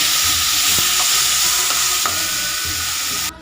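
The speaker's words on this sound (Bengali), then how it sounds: "একসাথে দিয়ে আমি ভালো করে ভেজে নেব" Small chuno fish frying in hot oil, a steady loud sizzle with a few light clicks and pops, close by and without voices, cutting off abruptly at the end.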